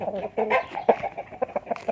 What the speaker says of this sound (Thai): ตัวนี้ไก่ไม้ครับ นำเขามาใหม่ครับ